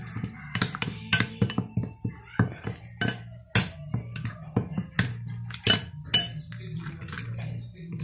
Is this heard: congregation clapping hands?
no